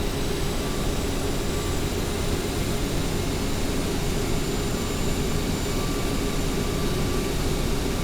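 Continuous broadband jet engine roar from an Aerosoft CRJ 700 in the Prepar3D flight simulator holds steady and loud as thrust is brought in, with no voices.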